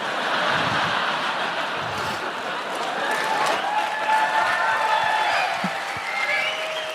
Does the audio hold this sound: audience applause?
yes